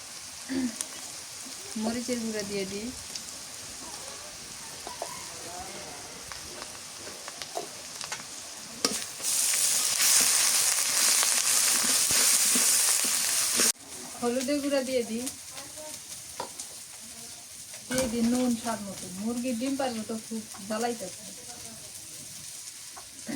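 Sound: spice paste being fried and stirred for beef curry

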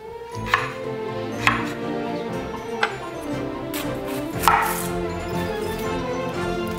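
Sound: knife chopping shallots and onion

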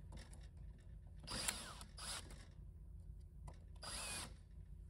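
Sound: cordless drill on low clutch setting

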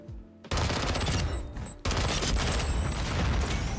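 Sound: Semtex grenades launched and exploding after a kill in Modern Warfare 2 (video game)

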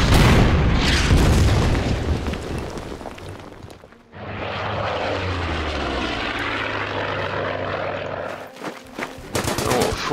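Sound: artillery shelling a foxhole, from video game Order of Battle Pacific

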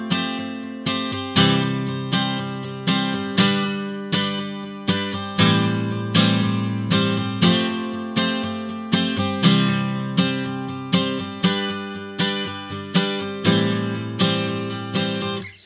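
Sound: acoustic guitar strumming chorus of a song

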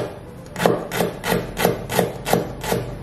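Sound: grinding lemongrass for rendang spice paste

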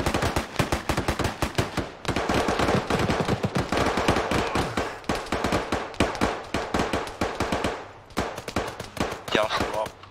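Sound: gunfire in video game

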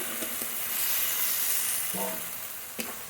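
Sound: chopped tomato added to frying spice paste, sizzling

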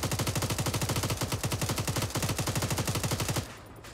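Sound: machine gun fire in the video game Arma 3

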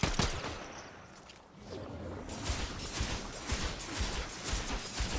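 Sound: gunfire in a shooter video game

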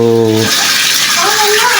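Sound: hot and cold shower running water

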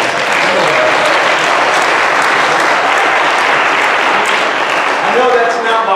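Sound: audience applause at a worship conference

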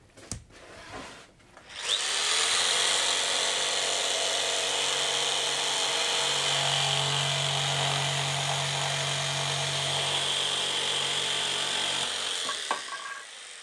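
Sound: jigsaw cutting wood for a bird nest box

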